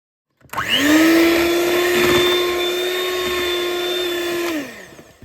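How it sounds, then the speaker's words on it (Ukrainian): An electric mixer whips meringue for a Kyiv cake, a steady close motor whine that starts abruptly, holds for about four seconds and winds down at the end. "швидкість міксера потрібно зменшити"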